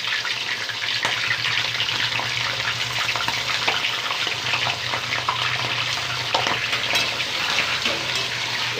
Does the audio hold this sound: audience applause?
no